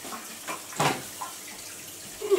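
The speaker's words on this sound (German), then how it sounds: "es wurde schon Zeit, mal wieder hier Wasserwechsel zu machen" Water runs during an aquarium water change in a one-metre Eheim tank, a soft, continuous splash and trickle that swells briefly and then eases, close by.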